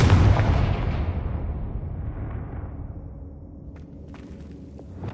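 A Confringo spell from the video game Hogwarts Legacy detonating: one loud, deep blast that rolls off into a long rumbling decay, with a few faint clicks near the end.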